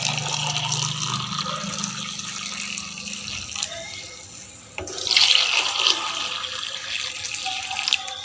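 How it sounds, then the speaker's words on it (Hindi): Tap water runs steadily into a container in a home kitchen on a cold morning, a continuous close hiss and splash that swells louder partway through, with no talking. "तो यहाँ पानी मैंने निकाल दिया है।"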